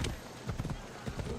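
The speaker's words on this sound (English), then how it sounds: "We have a horse right here." A horse's hooves clop at a steady trot in Assassin's Creed Odyssey, an uneven run of soft thuds with game ambience layered beneath, and a voice talks over parts of it.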